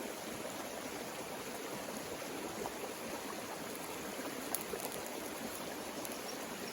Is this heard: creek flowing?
yes